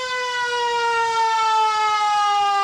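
A 1946 Ford police car siren wails in a steady, sustained tone, loud and close.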